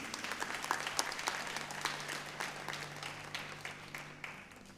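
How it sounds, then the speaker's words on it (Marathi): An audience at a foundation day event applauds young performers with sustained, fairly distant clapping and scattered sharper claps, and no talking over it. "या सर्व युवा कलाकारांचं आपण टाळ्या वाजवून एकदा कौतुक करूया"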